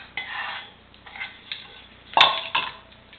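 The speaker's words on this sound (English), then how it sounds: "I'm going to get my measuring spoon in here to get all my dough out" A measuring spoon scrapes cobbler dough from a bowl, giving a few close, sharp clinks and scrapes spaced over a couple of seconds, with no talking.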